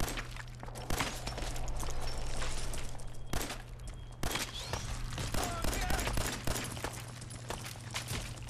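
Fallout 4 gunfire crackles in bursts of sharp shots over a steady hum, with rapid fire and scattered single cracks throughout, fairly loud and close.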